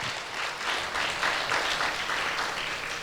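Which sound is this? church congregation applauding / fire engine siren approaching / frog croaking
church congregation applauding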